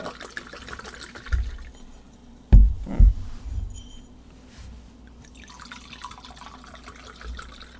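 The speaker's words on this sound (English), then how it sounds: "Put your volume up, time for the pour." A drink is poured into a glass: a short burst of liquid splashing and glugging in the middle, close but fairly quiet, among low room murmur and faint background noise.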